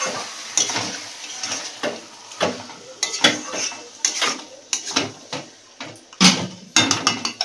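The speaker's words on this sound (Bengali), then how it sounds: "তো চলো ভালো করে এটাকে কষাতে হবে, নাহলে হবে না" Mutton is stirred and browned in a cooking pot, with a spoon scraping and clanking against the metal in uneven strokes over a soft sizzle.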